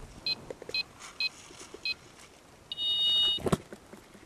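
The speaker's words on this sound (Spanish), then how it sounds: "tendré que hacer el pitido" An electronic device near a door gives four short, evenly spaced high beeps, then one longer steady tone, with a brief clunk after it. The beeps are fairly close and clear over quiet background noise.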